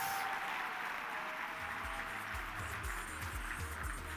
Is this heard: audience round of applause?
yes